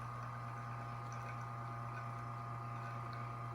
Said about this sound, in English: Nice and quiet rotary pump.